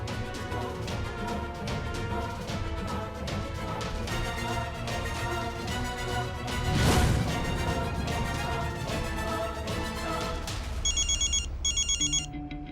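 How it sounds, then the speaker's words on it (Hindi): A telephone rings insistently with an incoming call, repeated electronic ring bursts in a steady rhythm over dramatic background music, with a loud crash-like swell midway and no talking. "भाई का फोन आ रहा है।"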